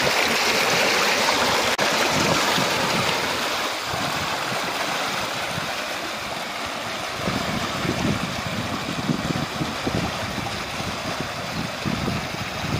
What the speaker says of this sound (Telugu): నీళ్ళు చూడండి ఎట్లా వెళ్తున్నాయి.